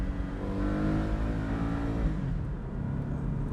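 A Porsche 718 Boxster engine revs steadily and loudly through a downshift, a dense, sustained mechanical roar that swells and then settles slightly toward the end, heard from inside the car.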